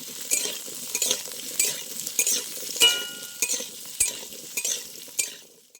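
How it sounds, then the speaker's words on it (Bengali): Cut potatoes fry in a pan as a spatula stirs them, producing an irregular run of scraping, clinking strokes over a soft sizzle, close and without talk. "আলুটা এবার নেড়ে চেড়ে ভালো করে ভেজে নেবো আমি।"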